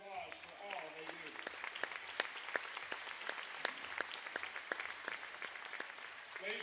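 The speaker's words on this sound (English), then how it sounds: "Please join us in giving these officials a round of applause for all they do." A basketball gym crowd gives the game officials a round of applause. The clapping is fairly quiet and scattered, with distinct individual claps standing out, and a voice is heard briefly at the start.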